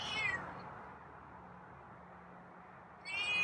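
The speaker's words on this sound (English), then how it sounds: "So a few meows here." A feral cat being tamed meows in two short bursts, one at the start and one near the end, separated by a quiet stretch with only low background hum.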